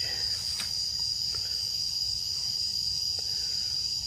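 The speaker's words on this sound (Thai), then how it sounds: "ฟังเสียงเรไลของธรรมชาติ" Cicadas call in a community forest in a continuous, loud high-pitched drone that holds steady throughout, with a few faint clicks and rustles in the background.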